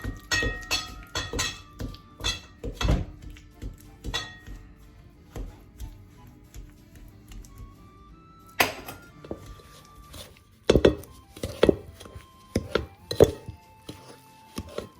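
A spoon beats butter and sugar together in a bowl for a pound cake, with a series of sharp irregular knocks and clinks against the bowl, some in quick bursts and a pause partway through.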